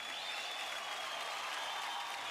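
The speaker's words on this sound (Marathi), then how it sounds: "जोरदार टाळ्या होऊन जाऊ द्या" Audience applause on a televised Marathi dance competition stage, a steady wash of clapping heard faint and distant throughout, with a thin tonal hum running underneath.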